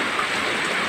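Steady rain falls on a rainy day in the Philippines, a dense even hiss of drops hitting surfaces with no pauses, alone with no voices.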